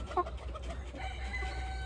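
Chickens clucking in short bursts, with a brief louder call near the start, over a steady low background hum.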